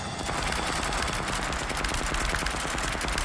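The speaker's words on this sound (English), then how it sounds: "Too busy shooting." Rapid automatic gunfire rattles without pause in the horror game The Dark Pictures: Switchback VR, a loud, dense burst of shots that never lets up and has no talk over it.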